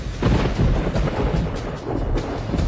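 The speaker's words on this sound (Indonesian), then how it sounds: "ada guntur" Thunder rumbles loud and close, a deep rolling boom with crackling texture that sustains throughout, over a wash like rain, with no voices.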